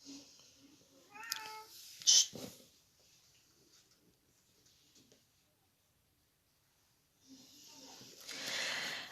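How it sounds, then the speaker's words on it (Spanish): A kitten in a room gives a short, faint meow early on, with a few soft breathy noises and thumps around it. Long quiet stretches follow, ending in a low rustling hiss. "Pero es que entró el gatito en la habitación."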